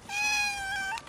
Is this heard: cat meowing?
yes